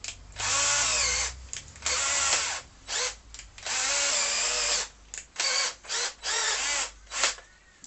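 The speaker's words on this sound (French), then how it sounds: "Je vais percer 2 petits trous devant vous. Mode perçage. Petit forêt." A power drill in drilling mode with a small bit bores two small holes, whining in several close, loud bursts with short pauses between them, no talking.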